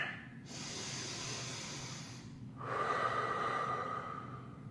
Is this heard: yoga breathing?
yes